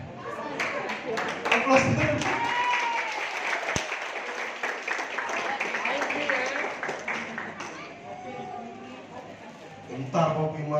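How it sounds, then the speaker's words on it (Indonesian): Audience applause at a marketing plan presentation, a hall of clapping running under continuous overlapping talk and cheering voices, fairly close and sustained throughout. "Aplaus."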